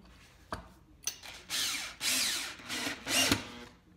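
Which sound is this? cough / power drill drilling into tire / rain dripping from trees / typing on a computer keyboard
power drill drilling into tire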